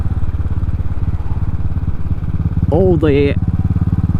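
A Royal Enfield motorcycle fitted with a Race Dynamics Powertronic unit thumps along at low revs, a steady loud single-cylinder pulse, with someone speaking briefly over it near the end.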